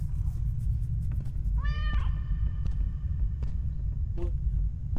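A cat in the horror video game Stairway 7 gives a single clear, rising meow, then a fainter short mew later, over a low rumbling ambient drone.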